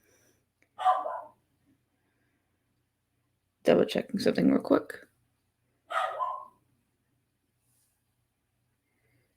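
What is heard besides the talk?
dogs barking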